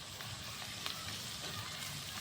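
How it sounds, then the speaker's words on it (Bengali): Spices fry in a pan for a whole-fish bhuna, with garlic paste, salt, turmeric and chili powder sizzling in a steady, close, hissing crackle and a few soft stirring pops, with no talk. "মশলাগুলো কষিয়ে নিচ্ছি"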